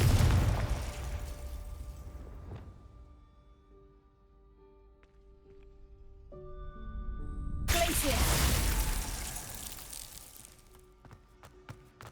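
A Confringo fire spell explodes in the Hogwarts Legacy video game, a loud booming burst near the start and another around eight seconds, each trailing off, with quieter magical tones and scattered pops between.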